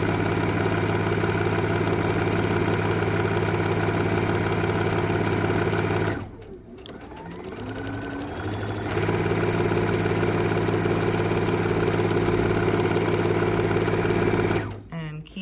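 A sewing machine stitches fabric for kitchen pot holders in a steady mechanical whir, stopping briefly midway before running again, with a voice speaking now and then.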